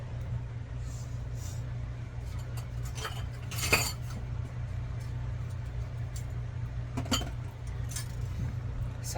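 A whisk being picked out from among metal kitchen utensils, with a few sharp clinks and rattles of cutlery against a steady low background hum, fairly faint and close.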